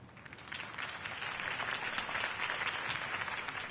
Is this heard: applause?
yes